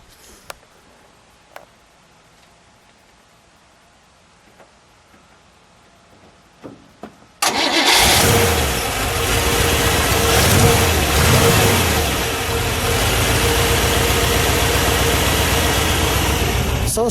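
A 1956 Chevrolet Bel Air convertible V8 turns over after a few faint clicks and quiet handling noises, then catches and settles into a loud, steady, close idle that rumbles on to the end.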